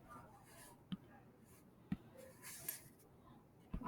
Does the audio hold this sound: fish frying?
no